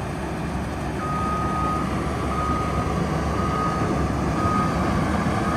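Heavy excavator tracking across muddy ground near a pond, a steady loud engine and track rumble throughout with a thin continuous whine running over it, no talk.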